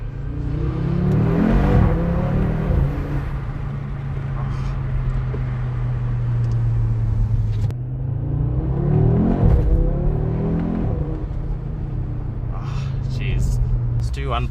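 A 2024 Audi RS3 engine pulling hard from first gear, a steady loud droning roar with a brief dip as it shifts midway, then climbing again, with someone talking over it.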